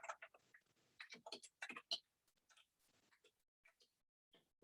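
Keys tapped on a computer keyboard while a note is typed into a gradebook dialog box: irregular bursts of close, crisp clicks, quicker at first and then sparser with short pauses, with no voice.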